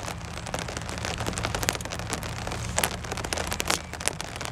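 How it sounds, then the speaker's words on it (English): Steady rain falls outdoors beside a pink van, a dense even patter of drops with scattered sharper taps close by, heard alone with no talk. "it's raining out here now."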